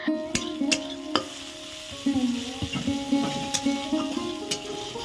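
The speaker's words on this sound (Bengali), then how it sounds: "পেঁয়াজ আর রসুনটা আমি কিন্তু একসাথে ভালোভাবে ভেজে নিচ্ছি" Chopped onion and garlic frying together in a pan for a crab and taro-leaf dish, a steady sizzle broken by sharp clicks and scrapes of a spatula stirring against the metal, close and clear.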